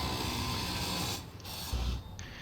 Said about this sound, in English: we've just got some armor plates here. I'm gonna just drill those out of the way.